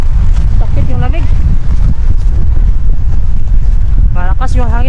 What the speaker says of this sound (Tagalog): Malakas yung hangin. Okay sana kung walang hangin.